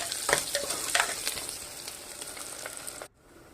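Onions, mustard seeds and curry leaves sautéing in about two spoons of oil for okra stew, a bright crackling sizzle with spoon stirs, fading before cutting out near the end.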